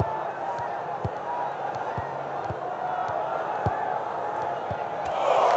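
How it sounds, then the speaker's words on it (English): Stadium crowd in the football video game Dream League Soccer 2016, a continuous roar of cheering fans with periodic thumps of the ball being kicked, swelling slightly at the end. "the crowd are well behind their team now they've got their goal"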